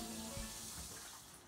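Running tap water rinsing a utensil at a kitchen sink during soup making, a steady faint splashing flow.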